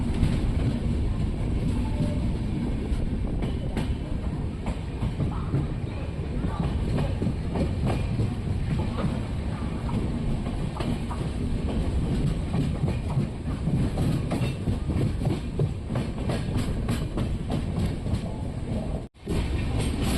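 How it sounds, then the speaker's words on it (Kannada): Passenger train running steadily on the rails near Madgaon in Goa, a continuous loud rumble with rhythmic wheel clatter and wind buffeting throughout, and a brief dropout near the end. "ನಮ್ಮ ಟ್ರೈನು ಸ್ವಲ್ಪ 10 ನಿಮಿಷ ಲೇಟಾಗಿ ಓಡ್ತಿದೆ, ರನ್ ಆಗ್ತಿದೆ."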